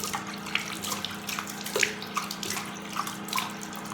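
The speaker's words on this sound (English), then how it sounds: "you just pour water just the way I'm doing, and let it just wash down" Water poured steadily over a face to rinse off a honey face mask, a continuous close splashing trickle running down into a basin, with no talking.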